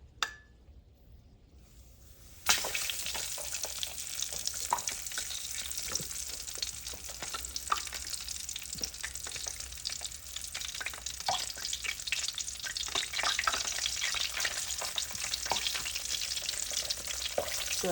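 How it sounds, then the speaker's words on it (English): Battered fish pieces dropped into hot oil in a pan for Southern fried fish, a brief quiet start giving way to a loud, dense, steady sizzle and crackle. "this could be more of a deep fry based on the pan that I'm using"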